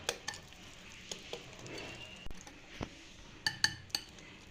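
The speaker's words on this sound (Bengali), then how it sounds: "ব্যাটারটাকে খুব বেশি ফেটিয়ে মাখবে না, আলতো হাতে এইভাবে মিক্স করে নেবে" A spoon gently folds orange cake batter by hand in a bowl. The sound is quiet and close, with soft stirring and scattered light clinks against the bowl that come at irregular moments.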